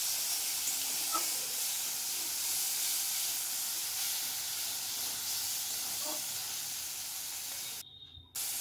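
A medium-sized tomato, ground to a paste, sautés in hot oil in a pan, giving a constant close hiss and sizzle with a couple of faint taps. It cuts off abruptly near the end.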